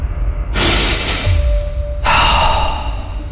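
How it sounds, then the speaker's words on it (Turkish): A deep breath drawn in and then let out: two long, airy breaths close to the microphone, with no talking. "Derin bir nefes al."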